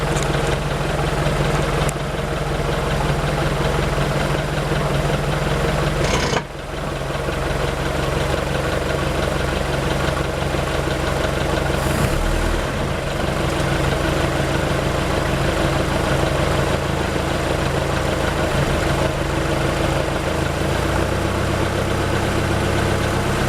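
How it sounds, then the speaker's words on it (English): A Mercury engine on a Bayliner boat idles while warming up, a steady, loud, low rumble with even vibration that continues for the whole stretch. "The engine's warming up. It's idling at a fairly good speed."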